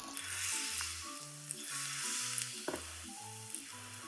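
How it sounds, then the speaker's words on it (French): Battered shrimp tempura frying in hot oil, a constant bright crackling sizzle close to the pan, quiet overall, with a few sharper pops and light clinks over it and no voices. "Il faut attendre le bulle de l'huile qui soit petit."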